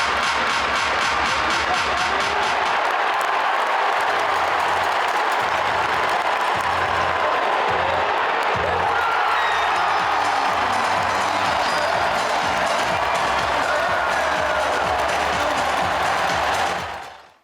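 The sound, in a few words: Sacramento Kings crowd cheering at Golden One Center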